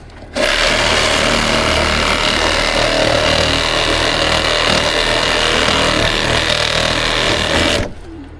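A power saw cuts steadily through wood during repairs to a 167-year-old church steeple, one loud unbroken run of about seven seconds that starts and stops abruptly.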